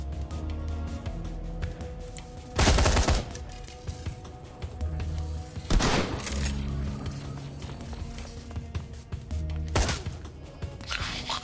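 Full-auto gunfire in the Shadowrun Hong Kong video game comes as three loud, sharp bursts spaced a few seconds apart over a continuous game music bed, with no talking.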